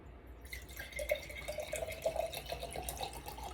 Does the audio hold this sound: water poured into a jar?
yes